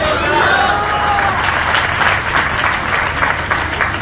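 Dense audience applause at a large church convention, many hands clapping steadily throughout with a continuous loud wash of claps that stays even from start to finish.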